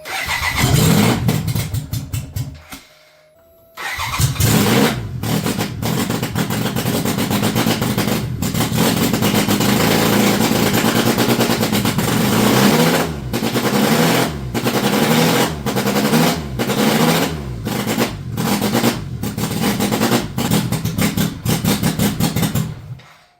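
A BMW K75 motorcycle engine cranks briefly, cuts out, then fires and runs loud and close in a rough, uneven, popping rhythm with several stumbles and misfires, alone without voices.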